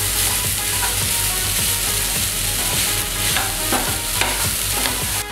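Puliyogare rice being stirred with masala in a hot pan: a steady close sizzle with repeated scraping strokes of the spoon, no voices.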